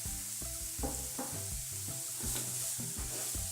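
Chopped carrots with a pinch of salt are sautéed for oats upma, giving a continuous close sizzle broken by rhythmic scraping and stirring strokes of a spatula against the pan.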